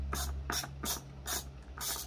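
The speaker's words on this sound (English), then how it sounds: "So, we're going to take out all these screws." Screws are being removed from the plastic housing of a Bissell PowerForce Helix vacuum: about five quick ratcheting, rasping bursts come in an even rhythm, heard close over a low steady hum.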